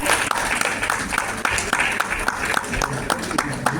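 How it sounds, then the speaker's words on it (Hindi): A crowd at a vegetarian awareness event applauding steadily, dense clapping filling the room from start to end with a few louder claps poking through. "प्लीज जोरदार तालियों से स्वागत करें।"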